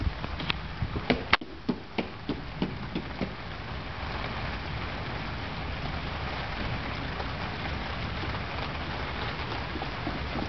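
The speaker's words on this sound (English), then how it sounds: "It's barely even raining now." Light rain patters steadily with a broad hiss, a few sharper taps and knocks in the first seconds, no voices.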